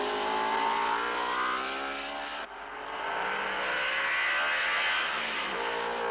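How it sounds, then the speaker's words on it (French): A vintage Aston Martin race car at the 1956 Le Mans 24 Hours roars past with a rising and falling whine, then a second loud pass follows, harmonics sweeping as it accelerates. "Voici l'Aston Martin numéro 14"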